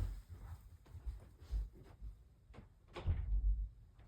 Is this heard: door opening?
yes